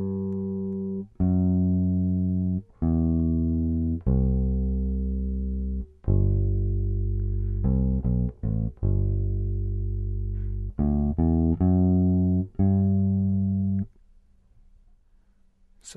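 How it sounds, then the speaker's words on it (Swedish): A bass guitar plays the intro bassline of a song, deep round sustained notes in a steady pattern with brief gaps and a quick cluster of shorter notes, close and alone without talk. "På skivan och i boken så låter baskompet så här i introt och i refrängen."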